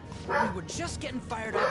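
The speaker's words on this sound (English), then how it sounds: "I hear your dog." A dog barking and yipping in a Persona video game, several sharp close barks and whimpers mixed with a man's speech playing over them.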